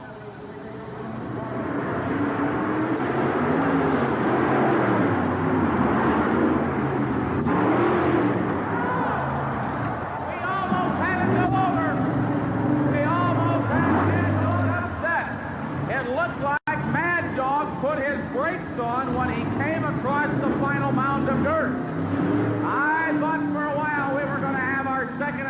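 Monster trucks roar and rev continuously at a 1987 Louisville show, a loud sustained engine drone with rising and falling surges under steady commentary from an announcer.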